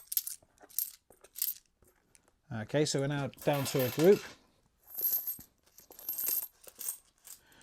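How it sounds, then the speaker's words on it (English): Coins clink and rattle as they drop into a tray, with light metallic taps scattered before and after a voice talking in between. "So all the coins will land in the tray, some face up and some face down."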